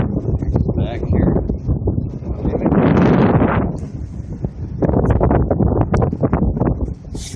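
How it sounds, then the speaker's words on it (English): Stiff headwind roars steadily across a boat as it leaves Lock 9 on the Mississippi River, loud buffeting gusts rising and falling close to the microphone throughout. "We got a stiff wind in our face here right now as we're leaving."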